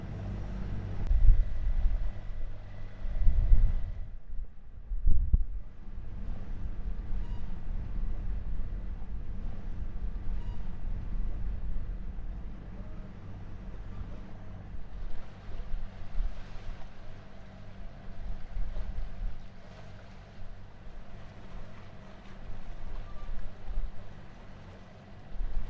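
Strong wind of 25 gusting 30 knots buffeting a sailing catamaran in the Bay of Islands near Urupukapuka Island, a continuous low roar with gusty swells and water wash, no talking.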